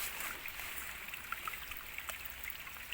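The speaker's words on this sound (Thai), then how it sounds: "นี่เห็นน้ำไหลอยู่เนาะ" Water in a rural stream flows steadily, a soft continuous trickling and babbling with tiny drip-like splashes, faint and close.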